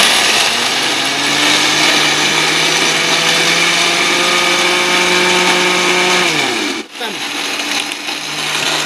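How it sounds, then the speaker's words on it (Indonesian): A blender grinding a large batch of eggshells for fertilizer, loud and close, its motor whine holding steady and then dropping sharply as it cuts off, briefly restarting after a pause. "Ini proses pemblenderan,"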